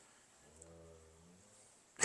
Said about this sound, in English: That is a dog. That is a dog.